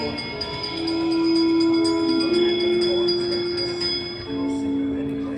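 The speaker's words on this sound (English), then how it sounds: "give us a hint by ringing a bell." A bell rings with a sustained, ringing tone inside the Haunted Mansion ride at Disneyland, followed by a second, slightly different tone near the end, over faint background noise.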